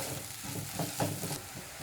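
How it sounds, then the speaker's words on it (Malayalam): Coriander powder and green chillies being stirred in a hot pan for chicken kizhi parotta, giving a steady close sizzle with soft scraping strokes of the spoon and no talk. "ഇനി ഇതെല്ലാം കൂടി നമുക്ക് നല്ലപോലെ ഒന്ന് മിക്സ് ചെയ്ത് കൊടുക്കാം."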